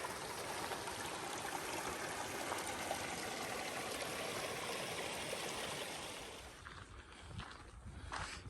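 Small mountain stream in Yosemite trickling over gravel at the spot where it begins, a steady close wash of running water that thins out toward the end.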